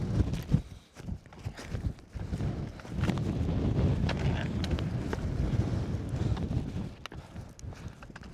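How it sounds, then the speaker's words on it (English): Strong wind buffets the microphone on the summit of Hopegill Head, a Lake District fell, in loud continuous gusts with a low rumbling roar and a few rustling thumps, and no talk. "Very windy."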